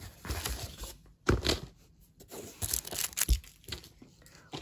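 Plastic protective film for a badge crinkles and tears in close, uneven bursts as it is handled, with brief pauses between the crackles.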